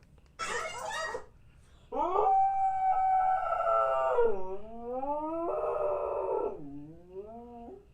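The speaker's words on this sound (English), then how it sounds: "He'll stand right in front of the TV and howl." A dog howls in long, wavering tones while standing before a television playing a commercial, with three drawn-out howls after a brief, rougher bark-like burst, close and loud in an indoor room.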